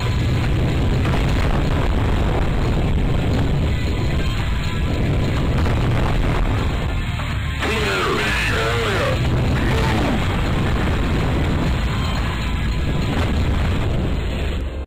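Bombs hit a huge nuclear reactor in the video game Combat Instinct, setting off a loud, sustained roaring explosion that rumbles steadily for about fifteen seconds, with a voice speaking faintly under the blast.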